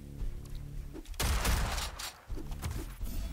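Ricochet gunshots crack in the arena shooter Diabotical during a tournament duel, a sharp burst of loud impacts and explosions between quieter stretches of game ambience, with no voices.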